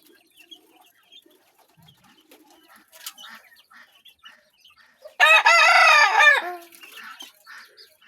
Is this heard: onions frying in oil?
no